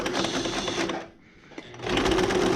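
A sewing machine stitches boat cushion fabric with a loud, fast, even whir up close. It briefly stops, then starts again, and no one speaks.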